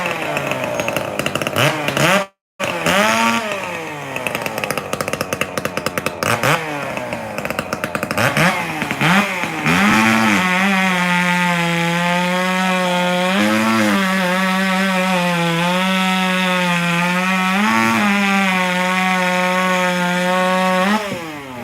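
A Craftsman chainsaw revs and cuts through wood at a sawing competition, loud and close, with the engine pitch rising and falling over a short gap, then settling into a steady high whine under load.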